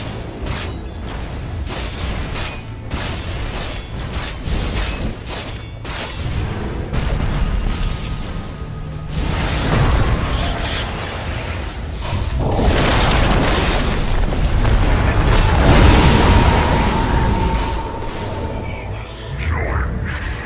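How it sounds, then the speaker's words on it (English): A Dota 2 match: an attack on the Radiant team's bottom tower sounds as a dense stretch of booms, impacts and whooshing spell effects that build louder toward the middle, with an announcer voice over the battle. "Radiant's bottom tower is under attack."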